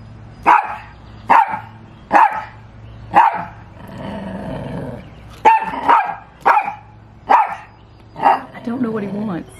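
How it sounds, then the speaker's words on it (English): Dogs bark repeatedly at each other in sharp, close, loud bursts spaced roughly evenly apart, with a low growling stretch in between and more rough vocalising toward the end. "I swear I think she's growling back at him."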